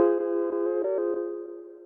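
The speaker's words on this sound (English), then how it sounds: "we can copy and paste our piano that sounds like this" Piano preset on an OP-XY synthesizer plays a short melody of about six notes, each a bright, clear keyed tone with a soft attack. The notes ring together and the final tone fades out on its own, with no talking.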